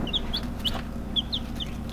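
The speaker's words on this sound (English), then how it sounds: "There are the newest additions to the chicken family." Newly hatched chicks in a brooder tote give high, bright peeps in quick irregular bursts, close and clear over a low background hum.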